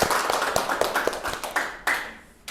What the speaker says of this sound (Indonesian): bisa duduk dan kita beri aplaus.